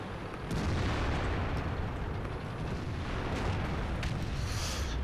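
Tank cannon fire in World of Tanks, a dense muffled boom and rumble that stays loud and sustained, with a few faint sharp cracks and a brief high hiss near the end.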